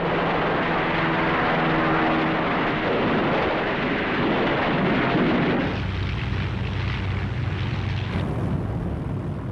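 German Luftwaffe bombers in an air raid over Malta: a loud, continuous roar of aircraft engines layered with rumbling explosions, the low drone shifting partway through and a brighter burst near the end, with no voices.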